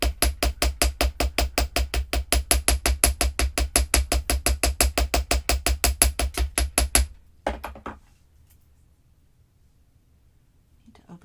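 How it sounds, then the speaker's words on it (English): Steady rapid hammering on crossed wire while shaping an adjustable wire bangle, dozens of even, close metallic taps for about seven seconds before stopping abruptly. "I'm going to cross those two over enough so that I can hammer."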